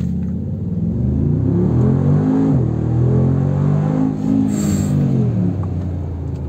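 A Brabus-modified Mercedes G-Wagon accelerates from close by, its engine revving in loud, rising and falling sweeps with a deep rumble that continues throughout.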